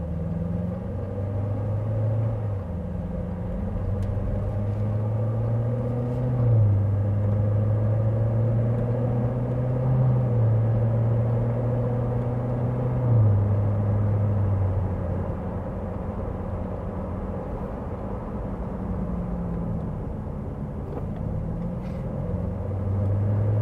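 A 2016 Corvette Z06 engine drones steadily from inside the cabin, its pitch rising and dropping as it shifts through gears, with a low road rumble throughout.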